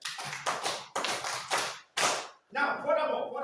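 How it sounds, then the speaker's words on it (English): A theater class claps together in several short, loud, close bursts of brisk rhythmic clapping with brief gaps between them, and then a voice begins speaking. "Clap yourself."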